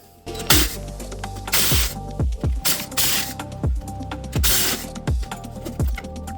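A battery-powered ratchet spins 10mm bolts while a 2002 BMW X5 E53's rear ball joint is being replaced, giving several loud, close, whirring bursts, each ending in a sharp clunk.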